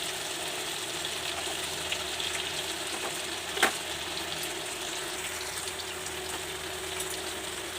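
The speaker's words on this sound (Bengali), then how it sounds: "সামান্য দিয়ে দিচ্ছি হলুদ, দিয়ে একটু ভেজে হালকা ভেজে নেব" Spices frying with turmeric in a pan, a continuous close hiss and crackle with one sharp pop partway through, no voices present.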